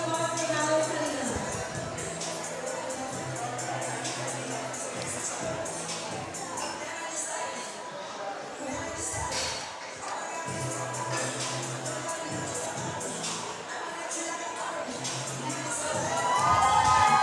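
Crowd at a powerlifting deadlift competition, a steady roar of cheering and shouting that holds throughout and swells loudly near the end, with an announcer talking over it.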